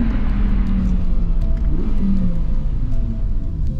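An Audi R8 sports car drives past with a loud, steady engine rumble and a rising and falling whir, heard from inside or close by with no voices.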